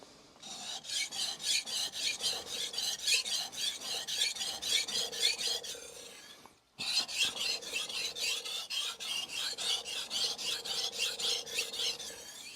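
Steady rhythmic rasping strokes of a knife blade being sharpened on a Shapton Kuromaku whetstone, close and even, with a brief pause partway through before the strokes resume.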